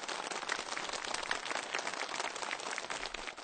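An audience applauds steadily in a studio setting, a dense, even wash of many clapping hands heard somewhat distant and soft.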